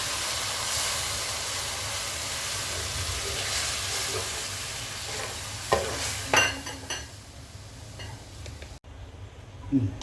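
Egg korma simmering in a pan just after milk is poured in, a steady broadband sizzle and bubbling hiss with stirring scrapes and a few clinks of a utensil, fairly close and continuous, with a faint voice at moments.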